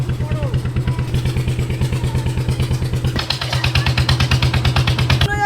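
A boat engine thuds in a steady, loud, fast rhythm as the vessel runs along a mangrove forest channel, with a person talking over the continuous chugging.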